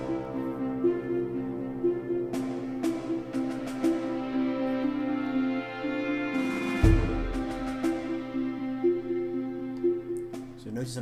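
A GarageBand loop arrangement of a drum kit with harp, without clarinet, plays a sparse repeating pattern of plucked notes and hits at moderate volume.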